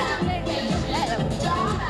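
Lively audience at a live show in Montreal, a dense steady murmur of many voices with scattered shouts and cheering, moderately loud and continuous throughout.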